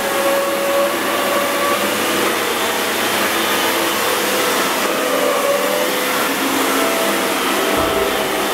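A Folletto vacuum cleaner drones loudly and continuously up close, a steady whooshing motor hum with no pauses.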